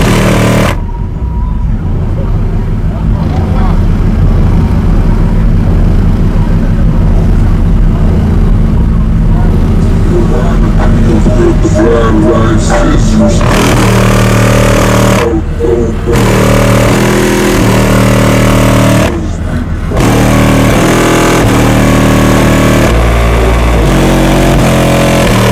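A Ford Crown Victoria engine revs loudly at a car show, rising and falling in repeated high-pitched pulls with short pauses between them. Voices can be heard under the engine noise.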